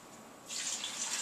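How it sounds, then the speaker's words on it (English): Water from a tap pours into a pot of turkey chicken chili, starting after a quiet moment and then running as a steady, close splashing rush. "So I'll add some water real quick."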